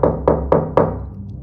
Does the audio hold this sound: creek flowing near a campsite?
no